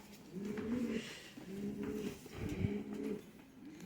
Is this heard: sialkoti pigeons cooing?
yes